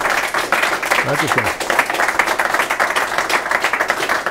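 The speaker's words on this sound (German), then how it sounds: "Herzlich willkommen, das ist Ihr Applaus." A studio audience on a German business talk show about the future of automobility gives steady, dense clapping throughout, while a voice briefly speaks over it.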